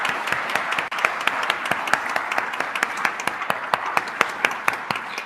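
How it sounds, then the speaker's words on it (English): Applause from the audience at a Washburn University employee recognition ceremony, honoring emeriti faculty: steady, dense clapping throughout with sharp individual claps standing out, no talk. "if we could please do another round of applause for all of these emeriti faculty."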